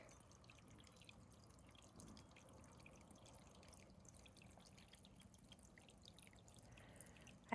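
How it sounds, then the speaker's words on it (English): Faint water trickles and drips continuously in the background, a quiet, gentle outdoor babble from a brook with small splashes. "Listen to the Babbling Brook."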